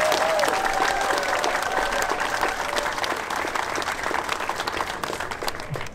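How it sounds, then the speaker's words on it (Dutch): Loud, sustained applause from a large crowd fills an opening ceremony for Hart van Heteren, steady dense clapping throughout with a few bell-like tones ringing faintly beneath at the start. "Daar mag echt even een daverend applaus voor gemaakt worden."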